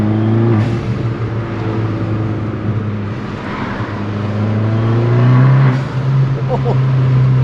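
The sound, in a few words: Abarth car accelerating and revving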